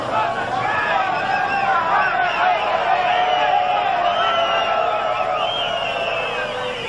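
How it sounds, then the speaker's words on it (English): A standing-room-only crowd at a world title boxing match between Lupe Pintor and Carlos Zarate hoots and hollers. The steady roar of excited voices and whoops fills the arena, with commentary heard over it. "Fans now hooting and hollering a little bit here"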